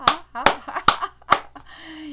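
Hands clapping sharply as a person laughs heartily, four loud claps in a quick irregular run, mixed with vocal laughter.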